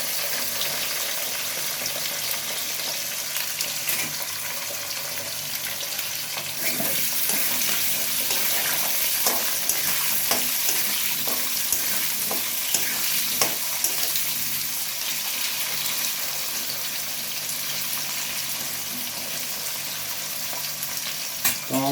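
Potatoes and ginger frying in a pan for a Bengali bottle-gourd stem dish, a steady close sizzle with stirring scrapes, growing louder and brighter partway through and continuing without talk.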